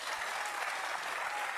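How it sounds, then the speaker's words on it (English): Studio audience on a TV talk show applauding steadily, a dense wash of many hands clapping at constant loudness throughout. "All these dummies just clapping."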